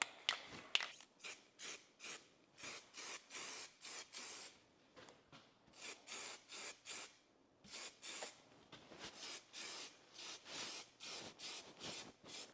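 A spray gun lays primer onto a car body in rhythmic bursts of hissing, roughly a dozen short passes grouped in runs with brief pauses between, close and fairly quiet, with no voices.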